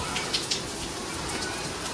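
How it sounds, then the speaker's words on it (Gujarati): Dense, steady rain pours down in a continuous wash of patter, loud and close, with a few sharper drips standing out. "ગજબ વરસાદ આવે છે જો."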